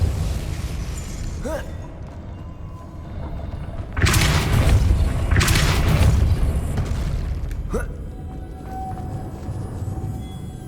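Spells are cast in the Hogwarts Legacy video game, including light, summoning, levitation and knockback spells. Loud booming blasts and sweeping whooshes rise over a dense, continuous game soundscape.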